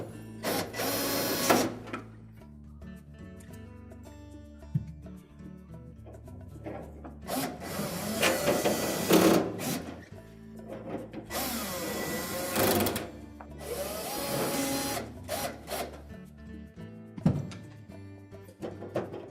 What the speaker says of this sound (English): we can reinstall those screws. So we'll start with the bottom screws